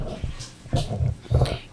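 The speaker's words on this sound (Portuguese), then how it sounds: "os cachorros estão latindo aqui" Dogs make brief yipping, whimpering vocal bursts nearby, a few short outbursts spaced apart against a quiet indoor background.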